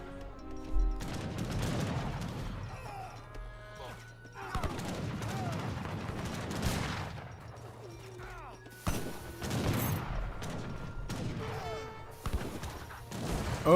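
Dynamite blasts and musket gunfire from an Age of Empires 3 battle erupt in several dense, crackling bursts separated by brief lulls.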